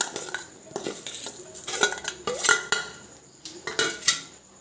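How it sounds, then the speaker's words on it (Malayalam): Rice is mixed with cumin and salt in a metal vessel, giving irregular scraping and clinking strokes of a utensil against the pot, close and moderately loud, with no voices. "അത് നമുക്കിത് എല്ലാം കൂടെ ഈ അരിയിലോട്ടേക്ക് മിക്സ് ചെയ്യാമേ."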